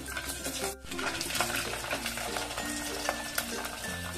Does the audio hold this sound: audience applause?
no